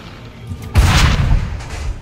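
Cannon fire in the video game Assassin's Creed 3 Remastered: a single deep, loud boom bursts in after a quiet moment and rumbles on as it slowly fades.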